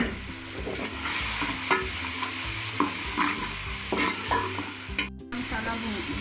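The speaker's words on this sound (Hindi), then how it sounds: "मसाला भूनना जा रहा है" Ground spices, crushed chili, coriander and cumin powder roast in a pan for chickpea rice, with a steady sizzle and repeated scraping stirs of a spoon close by.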